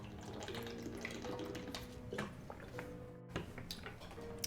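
Water runs and drips from a tap while a glass is filled for a drink, with wet splashing and small clinks close by in a quiet room.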